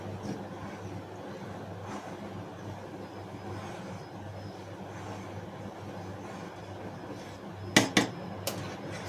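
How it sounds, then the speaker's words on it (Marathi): Kheer boils in a pot on a full gas flame over a low, steady rumble, then a spoon clinks sharply against the metal a few times near the end as it is stirred. "सारखं त्याला ढवळत राहायचं"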